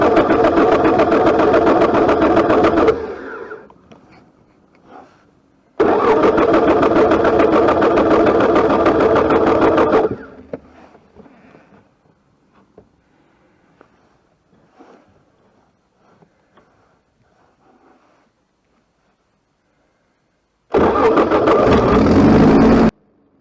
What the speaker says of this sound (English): So third time lucky, the engine starts.